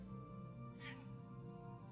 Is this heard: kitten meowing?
yes